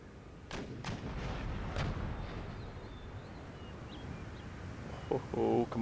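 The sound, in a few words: artillery fire in video game Empire Total War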